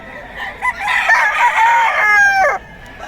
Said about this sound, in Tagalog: Ito panlaban na Boston White mga idol.